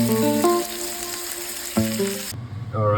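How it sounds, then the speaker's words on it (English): A wagyu steak fries in a hot pan with a steady, close sizzle; tonal clatter and ringing accents sit on top, and the hiss cuts out abruptly near the end. "Alright, super quick fry"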